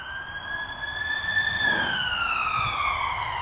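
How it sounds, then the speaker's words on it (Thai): Police car siren wailing on a nearby road beside a camping spot in England, a steady rising and falling tone that swells as it passes and slowly bends lower, with no talk. "ได้ยินแต่เสียงรถตำรวจนะคะเพราะว่ากินอยู่ติดกับถนน"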